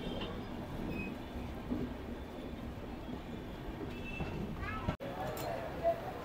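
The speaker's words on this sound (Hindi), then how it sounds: "ट्रेन आके लग गई है प्लेटफॉर्म नंबर 5 पर।" A train arriving at platform 5 of Raipur railway station rumbles steadily nearby with a low mechanical roar and faint wheel squeals, while people talk in the background.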